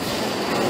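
Behemoth roller coaster train 3 at Great Adventure running along its track, a continuous broadband rolling roar with faint wheel rattle, steady and fairly close for under a second.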